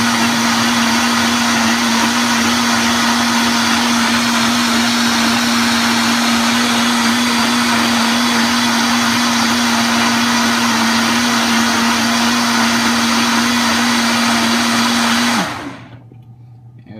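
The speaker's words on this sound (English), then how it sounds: "So I'm gonna go ahead and blend this up" A Vitamix 780 blender blending a smoothie runs loud and steady for about fifteen seconds with a constant high-powered whir, then switches off and winds down abruptly.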